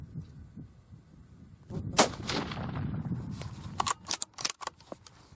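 A rifle firing Hornady 17 caliber ammunition at a target just under 200 yards away makes a single sharp crack, followed by several quieter clicks and knocks from handling the gun.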